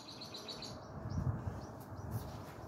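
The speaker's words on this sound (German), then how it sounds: "Ich tue die Amsel aufnehmen." A blackbird sings in the evening, its faint, distant phrases of chirps and whistles rising over a steady outdoor background hiss.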